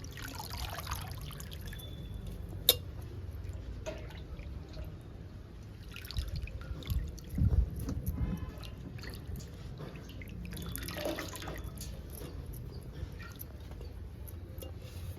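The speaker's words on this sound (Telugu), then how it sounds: "కడుక్కుందామండి గోంగూరని." Gongura leaves are rinsed in water with quiet, intermittent dripping and trickling, a few soft splashes and a sharp knock, close and low in level.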